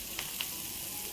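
Potatoes frying in a pan as a splash of water goes in, giving a steady close sizzle with a couple of brief sharper hisses near the start.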